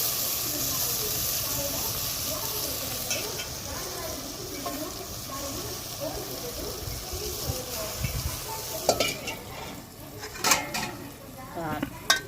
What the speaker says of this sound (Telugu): బ్యాళ్ళు అయితే వేసుకుందామండి.